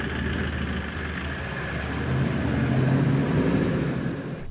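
A Toyota LandCruiser 76 Series with a power upgrade drives off from a car park, its engine a steady, close rumble that swells slightly midway and eases toward the end, with no talking.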